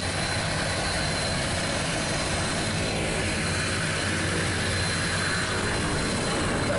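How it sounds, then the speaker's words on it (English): A Westwind Twin Beech 18 taxis to pick up skydivers, its twin piston engines and propellers making a loud, unbroken droning roar heard from inside the aircraft, with no break in the noise. "we're taxiing up to load up the jumpers"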